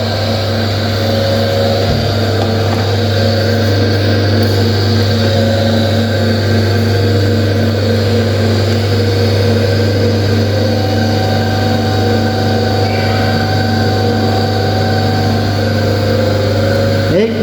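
A laboratory generator running under 25 volt excitation, a steady loud mechanical hum with strong tonal drones that stay constant throughout, close and continuous.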